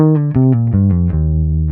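Solo bass guitar plays a short minor fill: about eight plucked notes stepping downward, each with a clear low fundamental, ending on a sustained low note. Close, clean and fairly loud, with no voices.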